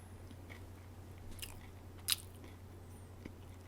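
Close, quiet bites and chewing on crunchy Greek croutons with pesto flavor, a few soft crunches building to one sharp crackling bite midway, over a low steady hum.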